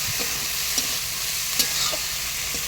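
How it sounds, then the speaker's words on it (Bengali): Prawns frying in oil in a home Bengali kitchen, giving a steady, soft bubbling sizzle throughout with a few light clicks of stirring or utensil contact, no talk. "ওই একই তেলে চিংড়ি মাছগুলো ভেজে নিচ্ছি"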